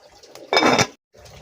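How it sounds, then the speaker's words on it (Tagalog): A pot of water with tomato and kamias being readied for boiling to make tinola fish soup, heard as a short metallic clatter of the pot with a light splash, followed by quiet handling. "magpapakulo po ako ng tubig kasama ng kamatis at kamyas para doon sa aming tinulang isda"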